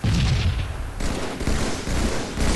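Gunfire in Halo 3 comes as a dense, loud burst of overlapping shots and booms. The rapid fire runs almost continuously over a few seconds, with brief dips between volleys.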